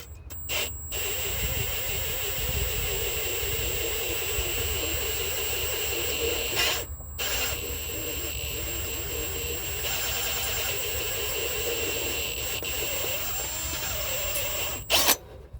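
A power drill whines steadily and loudly at close range, drilling into a Ford Powerstroke transmission for a helicoil repair, running continuously with a few brief stops.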